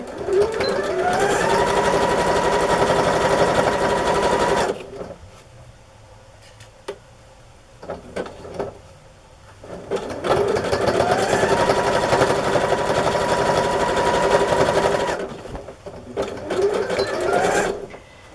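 Sewing machine stitching a zigzag stitch on fabric, a loud close mechanical whirring in two long bursts of several seconds each, separated by a quieter pause with small clicks and handling sounds.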